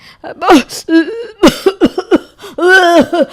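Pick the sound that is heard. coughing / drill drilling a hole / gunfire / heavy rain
coughing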